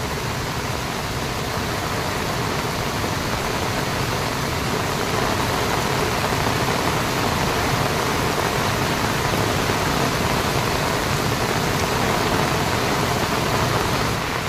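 Heavy monsoon rain pouring over farm fields and cashew trees, a dense, unbroken roaring hiss at constant loudness throughout, with no voices.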